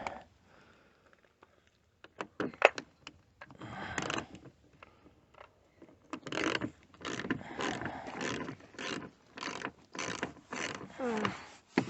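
A ratchet loosening a 7mm bolt on a Ford Focus bumper, a close, quiet series of rapid clicking ratchet strokes in short bursts that grow busier after a few seconds.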